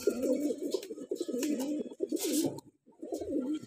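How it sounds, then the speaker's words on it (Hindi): Punjabi Malwai pigeons coo steadily in a close, continuous rolling murmur, with a brief pause near the end before the cooing resumes. "ये टोटल 16 कबूतर हैं"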